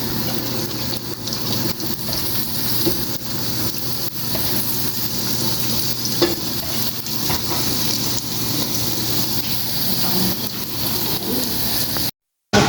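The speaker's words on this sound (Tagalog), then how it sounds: "Magpiprito na tayo ng ating dapat prituhin." Spring rolls and sambusa sizzle in hot oil, a steady close crackle and hiss that runs continuously without break, with faint voices nearby.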